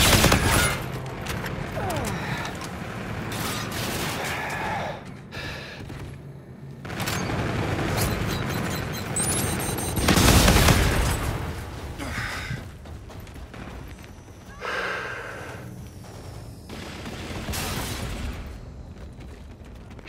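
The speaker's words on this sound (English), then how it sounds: "Roger, inbound for gun run." Aerial gun-run fire in Call of Duty Infinite Warfare on the Terminal map: heavy booming bursts and rattling volleys roll through a dense, continuous battle mix, with voices cutting in now and then.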